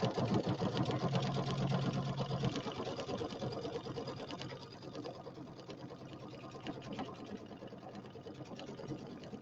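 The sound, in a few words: sewing machine stitching a quilt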